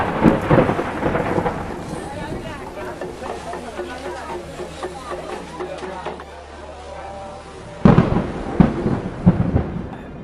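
Rain falls steadily through the evening in Kedarnath, with low rolling thunder rumbling under the downpour and a louder crack of thunder bursting in near the end.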